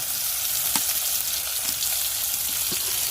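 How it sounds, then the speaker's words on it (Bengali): Mixed ingredients with green chillies and a little salt sizzle steadily in a pan while being sautéed, a close, continuous frying hiss with a few soft stirring knocks, no voices. "দেখো সব একসাথে দিয়ে ভালো করে এবারে কষতে হবে।"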